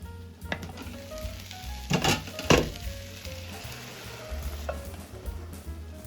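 A soup mixture with leftover turkey is poured into a hot pan, sizzling with scraping, clattering stirring strokes and a few louder bursts near the middle, up close and with no talking.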